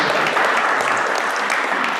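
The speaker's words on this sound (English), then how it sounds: "Let's give her another round of applause." Audience at an Edmond Public Schools Foundation event gives a round of applause, a dense, steady wash of clapping from many hands at even loudness throughout.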